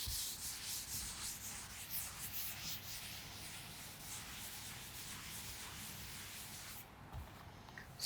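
Steady dry rubbing of an eraser or duster across a classroom board during a coordinate geometry lesson, a continuous scratchy friction running nearly unbroken for several seconds, close and alone with no talk.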